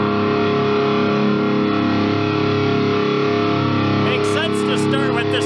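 A Gibson Adam Jones Les Paul Standard electric guitar plays through distortion, a thick sustained chordal tone holding steady and loud throughout, with brighter picked notes entering near the end.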